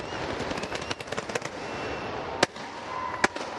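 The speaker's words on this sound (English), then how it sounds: "Bit of premature fireworks going off there." Fireworks crackle and pop at an Asia Cup cricket trophy ceremony between India and Pakistan, a rapid burst of sharp bangs followed by a couple of louder isolated reports over a stadium crowd murmur.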